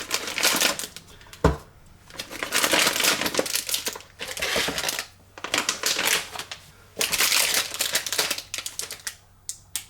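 BCB Fire Dragon cooker packet being opened by hand, a series of loud plastic crinkling and tearing bursts separated by short pauses, with one sharp click near the start, close up and without speech.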